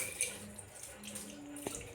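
Water being poured into a cooking dish while making an aloo paneer matar dish, a soft trickling splash at low level in a quiet kitchen, continuous and faint with a small clink near the end.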